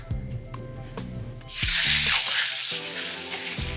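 Fish fillet laid skin side down in hot olive oil in a pan bursts into a loud, bright sizzle partway through, then settles into a steady crackling hiss.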